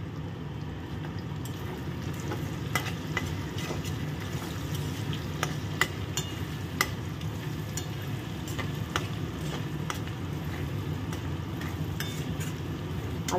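Potatoes fry with turmeric and salt in a pan, giving off a soft, steady sizzle over a low hum, with faint scattered ticks of stirring and popping oil, and no voices.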